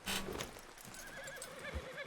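A horse in the video game Red Dead Redemption 2 lets out a single wavering whinny, loud and close, over a busy game soundscape with a faint hoof thud near the end.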